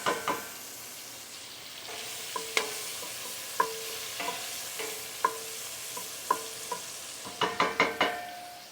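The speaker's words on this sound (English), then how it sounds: "You want to take a wooden spoon and just mix it." Guanciale frying in a pan, stirred with a wooden spoon, with a steady sizzle under repeated spoon knocks and scrapes that cluster into a quick run near the end.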